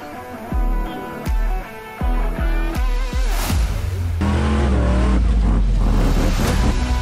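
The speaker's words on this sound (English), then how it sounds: "I'm racing Tyrant, my new buggy, latest build." A racing buggy engine at a Southern Rock Racing Series event in Bridgeport, Texas, revs loudly in repeated bursts, then holds a sustained roar close by.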